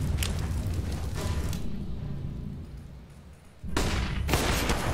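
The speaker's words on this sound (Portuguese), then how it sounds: "errou o tiro aí o Cadian" Rapid bursts of gunfire in a Counter-Strike match on the Overpass map, with loud volleys at the start, a quieter stretch of ambient game noise, then dense firing again near the end; no voices.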